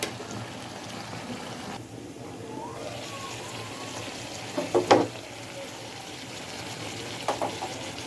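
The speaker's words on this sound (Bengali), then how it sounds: "এখন আমি পরিমাণ মতো পানি দিয়ে দিলাম" Water is poured into a pan of beef liver cooking on the stove, a steady wet hiss under a low simmer, with a brief louder splash near the middle and a few soft knocks toward the end.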